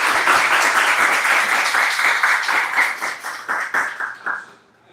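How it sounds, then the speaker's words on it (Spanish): An audience applauds a professor at the close of a lecture on the life and death of stars, a dense burst of many hands clapping that holds steady, then thins into scattered claps before fading out. "mais uma vez, uma salva de palmas para o professor"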